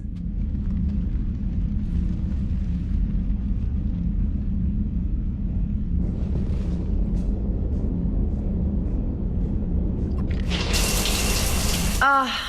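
Shower water running in the video game Mass Effect 3, a steady broadband hiss with a low rumble that brightens and intensifies toward the end, heard alone without talk.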